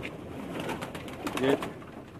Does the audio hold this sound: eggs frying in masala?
no